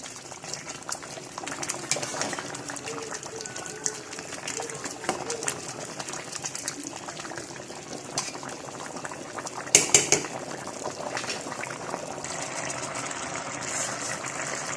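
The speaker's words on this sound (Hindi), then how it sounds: "यहाँ हम बॉइलिंग पानी में वो डाल देंगे और इसको मिक्स करेंगे" Water boils hard in a pot with bay leaf and black peppercorns for mutton pulao, a steady close bubbling roar with occasional clinks of a spoon stirring and a brief louder splash partway through.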